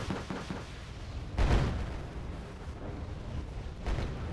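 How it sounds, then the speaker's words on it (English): Artillery barrage in the strategy game Wargame: Red Dragon: faint, distant explosions thud in a loose series, with one heavier boom in the middle and another toward the end over a low rumble. "Dear God, look at this barrage here."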